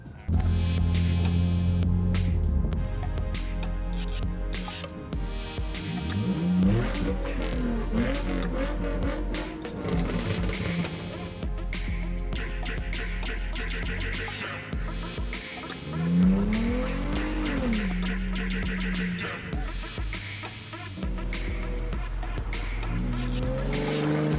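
A 2010 Hyundai Genesis Coupe pulls hard with its engine revving and rising through the gears, and its tires squeal sharply through turns. The sound is loud and sustained and comes from close by, with some wind rush throughout.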